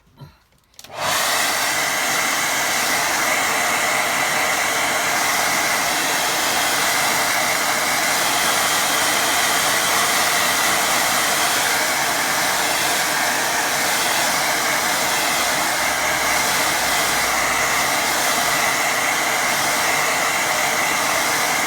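Hair dryer blowing over a watercolour painting, switching on after a second and then running as a loud, steady, continuous whoosh with no talking.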